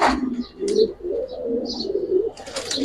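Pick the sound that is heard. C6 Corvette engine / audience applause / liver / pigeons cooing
pigeons cooing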